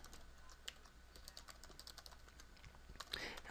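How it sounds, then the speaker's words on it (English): Quick, light clicks of typing on a computer keyboard while entering an email address, a steady run of close keystrokes over low background hum, with no one talking. "So I'm going to type in my email."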